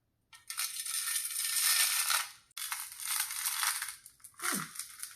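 Gravel poured into a small succulent planter, a steady close rattling pour for about two seconds, a brief pause, then a second pour and a short third trickle.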